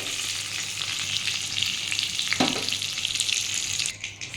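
Steady close sizzling and crackling of pointed gourd frying red in hot oil, a continuous bright hiss with a brief scrape partway through.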